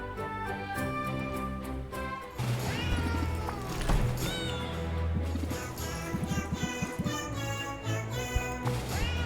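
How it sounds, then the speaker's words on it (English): Cats at a wharf in the video game Potionomics meow over a busy bed of game music, several cries rising and falling at moderate loudness, with no talking. "Good cats, here's your fish."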